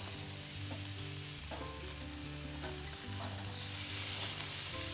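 Steaks frying in a pan in a home kitchen, giving a steady close sizzle with faint clinks and stirring ticks. The sizzle swells louder near the end, with no talking.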